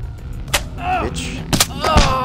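Shots fired by an enemy player in the VR game Boneworks multiplayer mod, a few sharp cracks spaced through a short burst, with other game noises and whooshing effects mixed between them.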